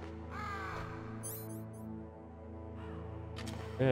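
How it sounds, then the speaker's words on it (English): Crow cawing in the video game Metal Gear Solid, a few harsh calls heard over the game's steady background music and ambience. "Bird."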